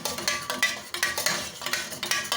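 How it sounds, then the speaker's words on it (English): Rhythmic metallic clinks and scrapes of a utensil beating and stirring melting wax and dye inside a candle-making pot, a steady series of close, sharp strikes roughly every quarter second, with no talking. "As you can hear, I'm just beating the pot here."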